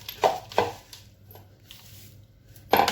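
Pastry pieces for Om Ali are broken by hand in a kitchen, giving three or four sharp, close crackling snaps spaced irregularly, with quiet pauses between them and no talking.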